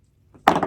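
Cord of a walking stick wrist strap being snipped off after a knot is tied, a single sharp close cut preceded by faint handling.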